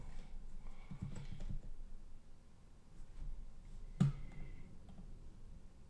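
Soft, close keystrokes on a new computer keyboard tap in irregular bursts, with one sharper click standing out, all quiet and without speech.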